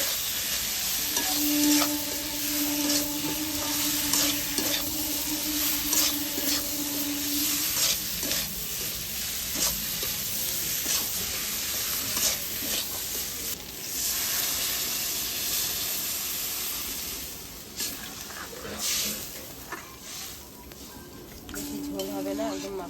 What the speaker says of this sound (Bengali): এবার চিংড়ি মাছ মাছগুলো দিয়ে নেড়ে ছেড়ে দেবো, দিয়ে জল দিয়ে দেবো।